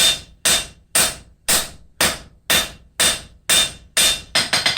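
Cross peen hammer forging a copper leaf hook on an anvil, about eleven sharp ringing blows in a steady rhythm, speeding into a quick flurry at the end, close and loud with no talk.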